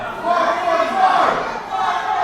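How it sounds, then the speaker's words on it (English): Wrestling crowd at a live pro wrestling show chanting loudly for birthday chops, a dense, sustained roar of many voices that swells and dips steadily throughout. "the crowd are chanting for some birthday chops"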